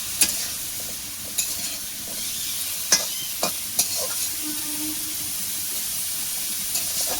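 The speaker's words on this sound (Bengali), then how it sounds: "ভালো করে লাড়াচাড়া করে দিয়ে ঢাকা দেবো।" Pumpkin leaves fry in a pan, giving an even, close hiss and sizzle with occasional sharp clicks and scrapes of stirring spaced through the sound.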